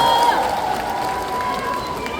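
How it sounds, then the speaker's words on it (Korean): Audience applause and cheering fill a large outdoor crowd at the 20th Chupungnyeong song festival, a steady dense wash of clapping and voices that holds at an even level throughout. "여러분들 큰 박수와 함성으로 계속해서 응원 이어주시면 감사하겠습니다."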